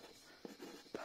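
Pen strokes on paper while drawing a paper game blindfolded: two short, soft scratchy strokes, close and quiet, with no voice.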